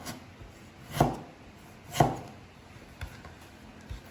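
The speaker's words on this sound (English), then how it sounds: "I'm going to julienne some carrots for the vegetable." A knife julienning carrots on a cutting board, with four crisp, evenly spaced chops about a second apart, close and clear over a quiet room.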